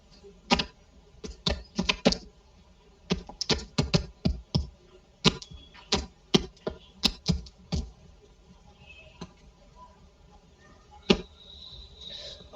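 Keys typed on a computer keyboard in quick bursts of clicks separated by pauses, close and fairly clear, with no talking.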